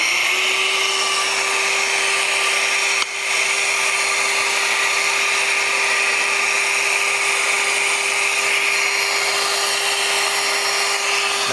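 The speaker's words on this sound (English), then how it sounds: "So we'll turn the vacuum back on." A vacuum attached to a woodcraft power tool runs with a steady, loud whining drone that barely changes, briefly dipping once before continuing, with no speech.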